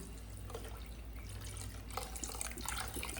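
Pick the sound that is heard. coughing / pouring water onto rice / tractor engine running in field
pouring water onto rice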